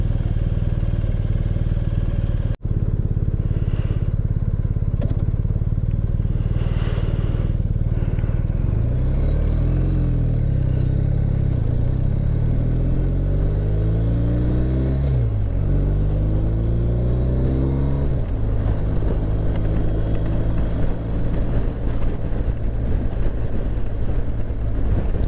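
Steady engine drone and wind rush from a BMW R1250RT motorcycle cruising along a road, with pitch rising and falling through gear changes midway, heard continuously from the rider's position.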